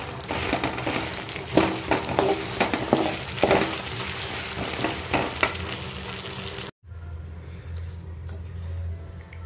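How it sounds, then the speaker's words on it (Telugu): Spices with black peppercorns dry-roast in a pan for karam podi, a close rattling and scraping as they are stirred, in bursts, before a sudden cut to a quieter low hum. "ఇలా మంచిగా దూరగా వేయించుకోవాలి."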